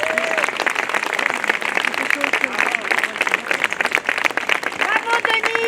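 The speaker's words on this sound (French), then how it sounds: "Vous pouvez nourrir vos applaudissements, ils sont nécessaires." An audience at an outdoor rally in Lyon calling for a ceasefire in the Middle East applauds steadily, a dense, sustained clapping from a crowd. Voices can be heard over the applause.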